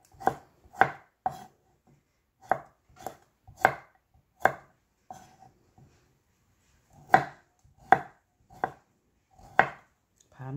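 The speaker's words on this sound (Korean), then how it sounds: "여기 밤을 이렇게 이렇게 썰어줍니다." Autumn chestnuts being sliced with a knife on a cutting board, a series of crisp, close knocks in short quick bursts separated by brief pauses, with no talking.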